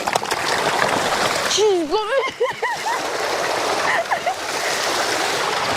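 Fish in a Nigerian fish-farm pond thrash and splash at the surface as feed is poured in, a broad continuous watery churning running throughout, with voices talking over it.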